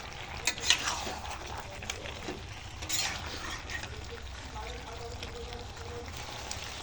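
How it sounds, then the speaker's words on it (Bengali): Chicken and potatoes are stirred and fried in a pan for kosha, with a spoon scraping and clinking in short bursts over a soft sizzle, and a quiet voice in the background. "আলু দিয়ে একটু ভালো করে কষা মাংস করে নেব"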